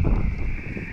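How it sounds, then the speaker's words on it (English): Steady gusty wind rumbling against the microphone at a yacht harbor, a low broadband roar that fills the whole second without pause. "It's windy, Cindy."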